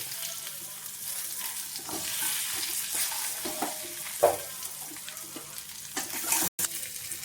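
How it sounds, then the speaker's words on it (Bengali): Vegetables for Bengali sukto fry in a pan with a gentle sizzle while being stirred, with scraping and clinking of a spoon at irregular moments, one sharper knock standing out. "আমি সব তরকারিগুলোই এবার দিয়ে দেব"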